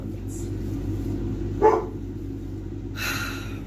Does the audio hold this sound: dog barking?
yes